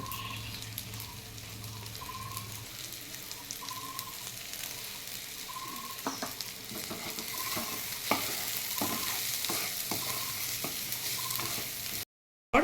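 Rice for a Bengali hibiscus-flower pulao frying and being stirred in a pan, a steady soft sizzle with intermittent scraping strokes of the spoon, close and continuous with no talk.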